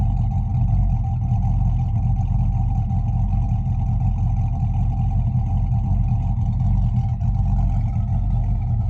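Car exhaust fitted with a turbo muffler idles steadily, a continuous low rumbling drone heard close by with no breaks and no talking.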